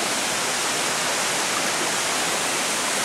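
Fukino Waterfall in Ajimu pours with a loud, constant, full rushing roar that fills the clip alone, with no voices over it.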